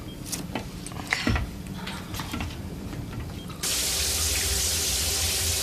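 Steady broadband water hiss of a shower suddenly starts and runs continuously, loud and close, after several seconds of clattering mechanical clicks and knocks in a sci-fi setting.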